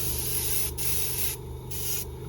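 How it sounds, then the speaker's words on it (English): A steady, close hiss of an airbrush spraying thinned Alclad 2 chrome paint, cutting off briefly twice and then resuming, with a low motor hum underneath. "Sounds like it sprays pretty neat."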